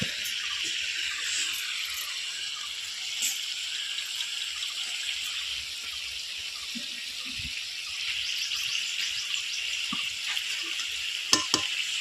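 A spice paste of ginger, garlic and cumin fries in hot oil for a thin, spicy chicken curry. The sizzle is continuous and soft, broken by occasional scraping and clicking as it is stirred.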